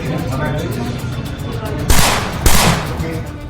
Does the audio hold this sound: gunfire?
yes